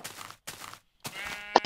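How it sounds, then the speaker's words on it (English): Sheep in the Minecraft video game bleat several times in a row, clear and close, the calls coming in quick, evenly spaced bursts. "Oh, there's a sheep over there."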